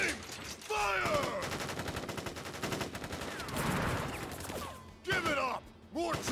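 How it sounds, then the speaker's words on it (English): Soldiers fire a ragged volley of gunshots in a video game fort courtyard battle, a dense crackling burst lasting several seconds, with shouted voices before and after. "Ready, aim, fire!"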